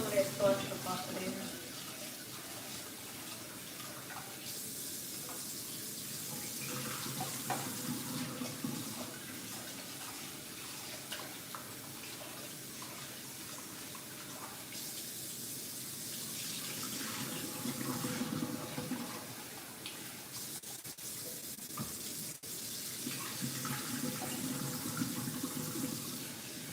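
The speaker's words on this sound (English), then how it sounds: "when you rinse your rice out" Rice being rinsed under a running kitchen tap, a steady broadband rush of water with shifting splashes as grains are swirled, continuous and fairly close, with soft talk at times underneath.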